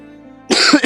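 A burst of coughing, two or three harsh coughs close to the mic from someone with a cough and headache, following a quiet stretch.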